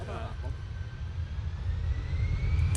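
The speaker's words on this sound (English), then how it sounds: "EasyJet now on the roll." An EasyJet jet airliner on its takeoff roll, bound for Antalya, rumbles low and steady, swelling gradually in loudness, with a thin rising whine and brief speech at the start.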